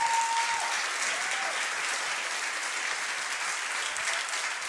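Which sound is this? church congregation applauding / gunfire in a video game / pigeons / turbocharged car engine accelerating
church congregation applauding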